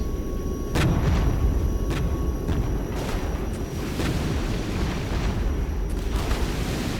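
Napalm bombs explode in the Regiments war game, a continuous heavy roaring rumble with repeated sharp blasts layered over it, loud and dense throughout.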